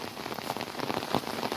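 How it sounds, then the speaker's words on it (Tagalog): Light drizzle falls on a corn farm, a soft, continuous patter of raindrops tapping surfaces nearby at an even, steady density, with no voices. "Konting ulan lang yan."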